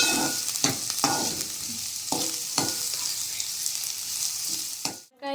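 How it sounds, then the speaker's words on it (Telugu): Bottle gourd pieces and their peel fry in a pan, giving a steady, close sizzle with a few brief stirring scrapes and no talk. "ముక్కలని మరియు తొక్కను ఒక ఐదు నిమిషాలు వేగించుకోవాలి మూత పెట్టుకొని వేగించుకోవాలి"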